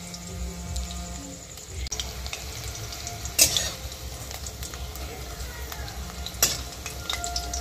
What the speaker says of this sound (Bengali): দেখুন ভাজা হয়ে গেছে, এগুলো তুলে নেওয়া হবে।